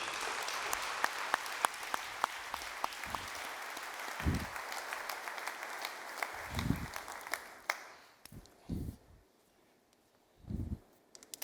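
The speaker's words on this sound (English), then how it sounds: "Please put your hands together. Join me in welcoming Sal Paolantonio." An audience applauds to welcome Sal Paolantonio, a dense sustained round of clapping that thins out and fades after several seconds, leaving a few low thumps and scattered movement.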